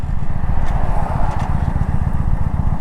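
Motorcycle rolling through a corner while the front brake is applied hard, slowing from about 40 mph for a brake heat cycle; a steady, loud engine drone with a dense low rumble and wind noise runs throughout.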